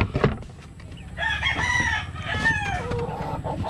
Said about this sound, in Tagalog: Talaga, ganda ng mga manok nila dito, ah.